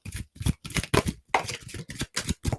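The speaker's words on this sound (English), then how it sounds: "just so you can see me shuffling" Tarot oracle cards shuffled by hand in a series of about nine quick riffling bursts with short pauses between, close and fairly loud, no talking.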